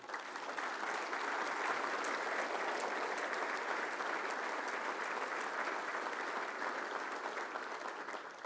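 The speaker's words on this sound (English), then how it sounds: "So could I have a round of applause for Bob, please?" A conference keynote audience gives a sustained round of applause: a dense, even roar of many hands clapping at once, steady in loudness for the whole stretch with no talking on top.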